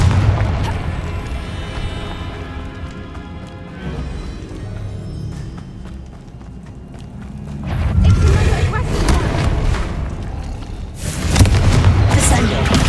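In the Hogwarts Legacy video game, a Confringo blasting curse sets off loud explosive bursts, a rumbling boom rising partway through and a second heavy crash near the end, with battle noise and a shouted voice around them.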